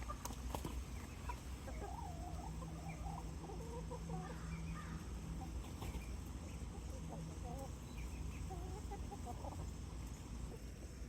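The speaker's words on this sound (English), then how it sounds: "Come here, chickens." Chickens, some of them molting, cluck softly and irregularly around a farmyard in fall, with steady background noise and occasional low rumbles.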